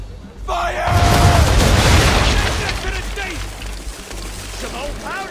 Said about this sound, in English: Aim all guns at her bow and do as much damage as possible.